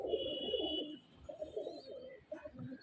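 Pigeons of the Andhra breed coo softly in a few low, rolling phrases, with a thin steady whistle-like tone at the start and quiet gaps between calls.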